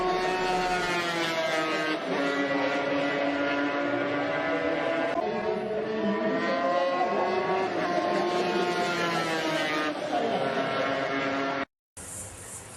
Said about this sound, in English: We'll fire up the old KR500.